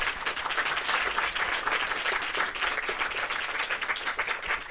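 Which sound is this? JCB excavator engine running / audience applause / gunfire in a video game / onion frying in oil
audience applause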